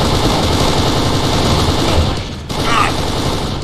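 Dense, rapid automatic gunfire rattles nonstop in the Kane & Lynch 2: Dog Days video game, dipping briefly before resuming, with speech mixed in.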